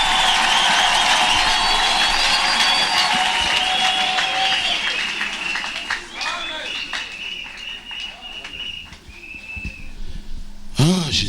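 Church congregation applauding and cheering: loud, dense clapping mixed with whistles and high shouts for the first half, then thinning into scattered claps and voices before a brief final burst.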